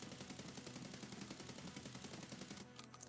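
Rapid rifle fire rattles continuously in the Escape from Tarkov shooter game, a steady dense stream of shots at even loudness throughout with no one talking.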